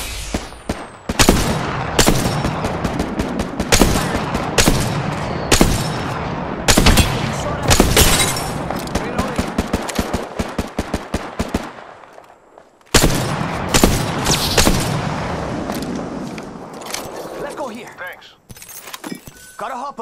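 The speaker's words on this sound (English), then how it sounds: "I'm getting shot!" Gunfire in Apex Legends on PS4: rapid, close bursts of shots crack out almost nonstop, with a short pause near the middle before the firing resumes. A voice talks over the shooting.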